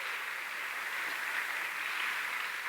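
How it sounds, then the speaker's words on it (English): Steady, dense applause from an audience at a Rosemead High School back-to-school welcome fills the space evenly for a few seconds, with no talking over it. "One more time, applause."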